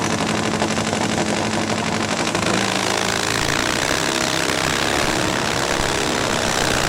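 A drag racing motorcycle at an AHDRA event roars loudly and continuously, a harsh rattling engine blare that fills the whole clip with no talk over it.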